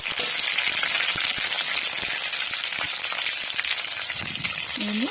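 Loitta dried fish with green chillies stirred and fried in a pan, a continuous close sizzle with scraping and tapping of a utensil, no talk.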